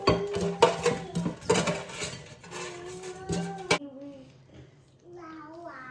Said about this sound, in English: Okay, so now we're going to plate up my cauliflower